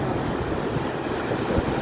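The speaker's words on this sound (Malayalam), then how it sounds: "അടിച്ചു കയറണ തിരമാല" Sea waves surge onto the shore in continuous, loud, broadband roaring wash that stays steady throughout, with no voices over it.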